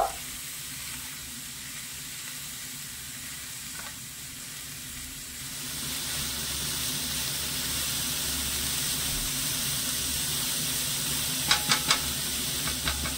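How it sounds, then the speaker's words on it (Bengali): Cabbage, carrot, green chilli and chopped coriander frying in a pan give a steady hiss that swells louder partway through and holds, with a few quick metallic taps of a spatula near the end and no speech. "এবারে সবকিছু আমি ভালো করে একটু ভেজে নেব"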